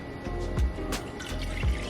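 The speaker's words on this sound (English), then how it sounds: "you can dump the water in there." Half a cup of water is dumped into a bowl while making vegan batter for spicy BBQ cauliflower wings, giving a short splashing, dripping liquid sound with two soft low thumps, close by and with no talk.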